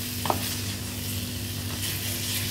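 Raw chicken sizzles steadily in a hot frying pan for arroz con pollo, a continuous loud frying hiss with a brief clink near the start and no voices.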